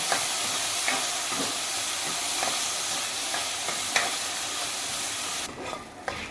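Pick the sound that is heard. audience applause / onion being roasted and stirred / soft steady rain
onion being roasted and stirred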